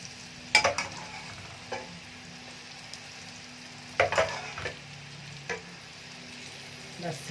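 Béchamel sauce stirred in a pan for a zucchini bake, a few scraping spoon strokes in short bursts separated by quiet gaps, close and fairly soft.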